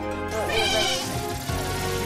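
Sheep Pokémon cry in a Pokémon video game, a loud, wavering electronic bleat filling the short clip with game music underneath.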